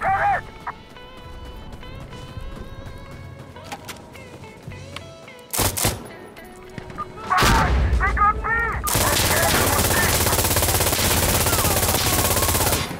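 Gunfire in the video game Insurgency Sandstorm: scattered single shots early on, then a long sustained loud burst of rapid fire filling the last several seconds, no talk over it.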